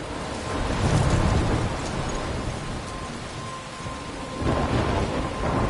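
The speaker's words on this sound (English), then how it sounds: "I'm trapped in a storm?" Heavy rain pours steadily in a Life is Strange storm, with deep rumbling thunder swelling early and again near the end, loud and close with no voices.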